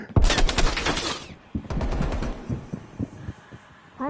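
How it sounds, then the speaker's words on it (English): Rapid bursts of gunfire in a video game, a dense volley in the first second followed by a second stretch of sharper, spaced shots; a single distinct sniper-rifle crack cannot be singled out from the loud firing. "Why did I just hear a sniper bullet?"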